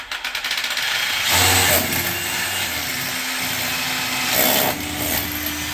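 A power tool driving a screw during a toilet installation whirs loudly and steadily at close range, with two brief surges of higher load, and no voices.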